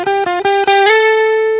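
An electric guitar plays through a Stax Odrive-1 overdrive pedal, a few loud picked notes in quick succession settling into one sustained, gritty overdriven note that rings out.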